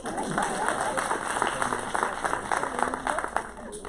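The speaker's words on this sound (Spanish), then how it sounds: "Eso merece un aplauso también" Applause from an audience at an emergency-room medical talk, a dense steady patter of many hands clapping throughout with a murmur of voices underneath.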